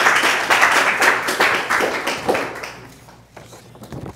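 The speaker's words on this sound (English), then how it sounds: "I'd love for us to give another round of applause for Nathan" An audience at an awards ceremony applauds in a dense burst of clapping that carries for a couple of seconds, then thins and fades into scattered claps.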